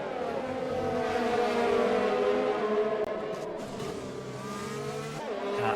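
F1 race cars tearing around the Singapore street circuit in a racing video game, a loud continuous high-pitched engine whine with rising and falling revs and overlapping cars, brief tire squeal near the end.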